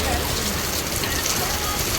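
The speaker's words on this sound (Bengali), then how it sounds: "তোমাদের দেখাই একবার কিরকম বৃষ্টি হচ্ছে।" Heavy rain pours down steadily in a dense, continuous hiss of drops striking surfaces, loud and unbroken throughout with no gaps.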